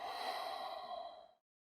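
A single long, airy exhale closing a morning yoga flow at a garden, close and soft, fading out cleanly after about a second and a half.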